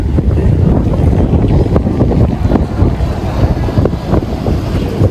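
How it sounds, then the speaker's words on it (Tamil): A boat sets off across the water in Bali. Its low, rumbling engine drone blends with heavy gusting wind buffeting the microphone and wave wash, all loud and continuous. "இப்போ அந்த பக்கம் ஒரு போட் கிளம்பிடுச்சு."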